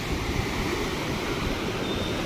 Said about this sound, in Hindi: पीछे बेतवा नदी अपना बहुत ज़्यादा उफान पे है